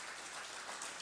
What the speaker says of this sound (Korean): 한번 일어나 주시면 박수로 환영하겠습니다.